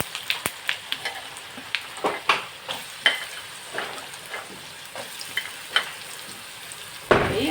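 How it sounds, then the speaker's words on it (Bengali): Mustard seeds tempering in hot oil for upma, with sharp popping crackles bursting irregularly over a soft sizzle, close by, ending in a louder stir or scrape, no voices. "একটু সর্ষে ফোড়ন দিতে হবে উপমার জন্য"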